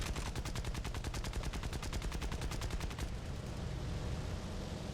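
Aircraft machine guns in War Thunder fire a rapid, even burst of loud shots that stops abruptly partway through, leaving a steady roar of engine and wind.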